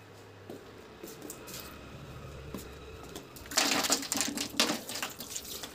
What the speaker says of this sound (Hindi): ठंडा पानी डाल दिया,